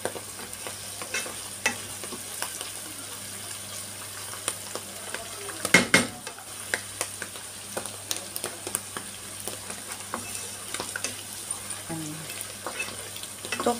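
Tofu and mushrooms with oyster sauce sizzle softly in a pan, with scattered clicks and stirring scrapes, a louder clatter near the middle, faint and close without talking.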